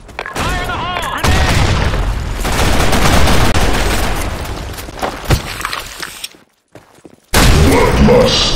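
In the Blackshot video game, a grenade blast and rattling gunfire roar loudly and continuously, the bursts easing into scattered shots before a short silence and a sudden new loud volley.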